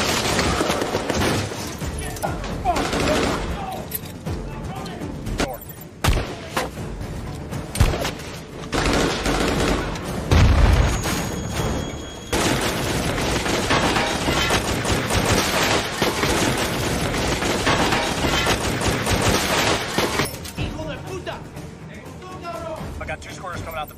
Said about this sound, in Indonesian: mereka pun harus disambut dengan tembakan para teroris